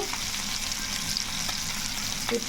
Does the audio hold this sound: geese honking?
no